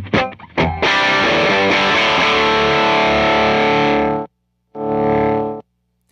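An electric guitar plays through a Case Study Effects Aspen Overdrive pedal: a few picked notes, then a loud, sustained, overdriven chord ringing for several seconds, a pause, and a second shorter distorted chord.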